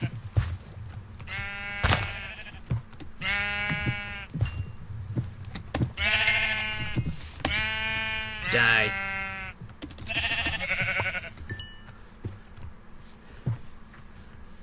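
Several sheep in Minecraft bleat in turn, loud and close, with brief pauses between calls and a faint voice speaking once in the background.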